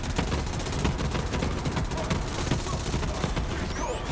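Kaoson submachine gun in Borderlands 3 fires in long, rapid automatic bursts, a steady crackling stream of close shots that runs almost the whole time amid game effects, without a pause.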